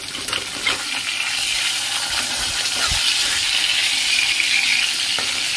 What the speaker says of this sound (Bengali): এদিকে মাছ ভাজা বসিয়ে দিয়েছি